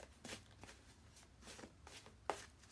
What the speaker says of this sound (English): I love the sound of how the cards shuffle.